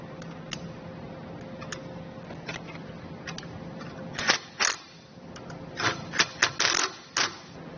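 Zip tie ratcheted tight around trailer wiring for a Roadmaster Hy-Power diode kit: a few light ticks, then a quick series of sharp, close clicking zips over low background hum.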